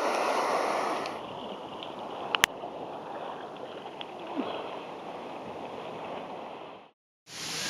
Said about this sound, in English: These waves are kicking my ass.